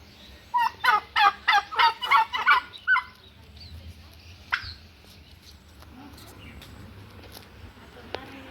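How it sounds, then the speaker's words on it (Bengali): A rapid series of loud bird calls, about eight rhythmic gobbling bursts close by, followed by quieter scattered chirps and faint background noise. "এই দেখো পাখিগুলো ডাকছে কেমন"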